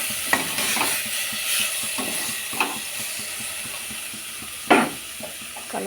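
A spoon stirs chili powder into sambar in a pan, scraping and clinking at irregular intervals over a steady sizzle, close and moderately loud with no talking.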